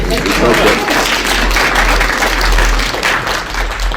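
An audience at a Chicago Police Board public meeting applauds: a continuous, fairly loud patter of many hands clapping for the full few seconds, with a low room hum underneath.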